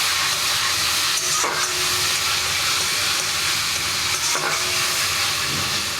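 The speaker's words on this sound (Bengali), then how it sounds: "এরপরে দেবো অল্প একটু টমেটো বাটাটা" Tomato paste fries over high gas in a pan with black cumin seeds, a loud continuous sizzling hiss with a couple of brief scrapes as it is stirred, steady throughout and without talk.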